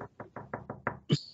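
Knocking on the side of a hut in a tabletop role-playing game is imitated by a player's voice, six quick evenly spaced raps followed by a short vocal flourish, close and clear.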